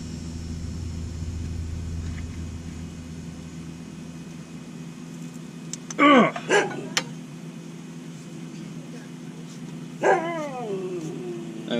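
A neighbor's dog barks nearby in two short bursts, a quick double bark and then a single bark a few seconds later, over a low steady rumble in a garage during a Chevrolet Silverado Duramax diesel oil pan replacement.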